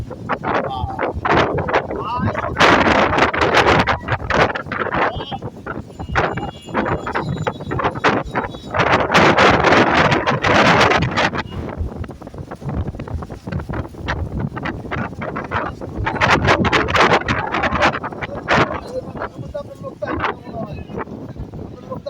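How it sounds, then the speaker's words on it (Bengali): Strong storm wind roars in uneven gusts over open water, buffeting the microphone hard while people talk over the rushing noise. "কি বাতাস"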